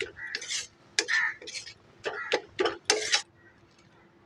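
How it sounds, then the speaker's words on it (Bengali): Banana flower and cooked potato being mashed with spices in a pan, with a handful of separate scraping and pressing strokes, short clattering bursts close by, spaced between quiet gaps. "ভালো করে ম্যাশ করে নেব যাতে মোচা আর আলুটা মশলার সঙ্গে ভালো করে মিশে যায়"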